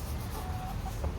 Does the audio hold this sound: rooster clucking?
yes